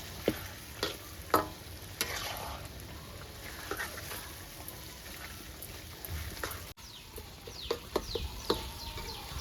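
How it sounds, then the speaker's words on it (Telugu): Egg and chicken curry frying in hot oil, a steady close crackling sizzle with brief sharper pops and stirring clinks scattered throughout. "ఇది ఇట్లా టెన్ మినిట్స్ మంచిగా ఫ్రై చేసుకోవాలి"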